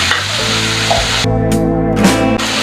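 Mustard paste stir-frying in a pan for a hilsa fish curry, with a steady close sizzle and scraping of the spatula throughout, the frying noise dipping briefly and then returning.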